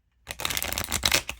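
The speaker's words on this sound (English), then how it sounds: "you really have to push down to get them to shuffle." A deck of gold playing cards is riffle-shuffled with firm downward pressure, producing a close, rapid fluttering burst of card snaps lasting about a second.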